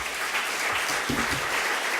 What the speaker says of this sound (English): give a big applause for Saïd Sayrafiezadeh